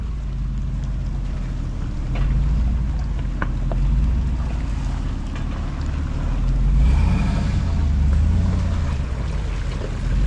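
A Chevrolet Silverado pickup in two-wheel drive, its locker engaging as it crawls up and over a boulder; a steady low engine rumble, near and loud, swells twice as the truck strains over the rock, with no talking.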